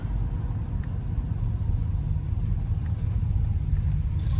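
A 1966 Pontiac Bonneville engine runs steadily with a low, even rumble and faint mechanical hum, heard close with no talking.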